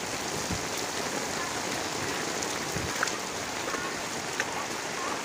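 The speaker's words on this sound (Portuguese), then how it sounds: "um vídeo que foi gravado no momento da chuva" Heavy rain pours down steadily in Santa Rita, a dense, even hiss of drops drumming on surfaces that holds without a break, with a few brief louder splashes and no voices.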